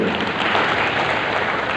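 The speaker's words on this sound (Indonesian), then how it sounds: "Tepuk tangan yang paling benar." A church congregation applauds together during a sermon, a dense steady wash of clapping filling the space.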